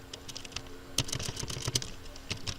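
Someone types a word on a computer keyboard, a quick irregular run of close, crisp key clicks with a few louder taps, with no voice over it.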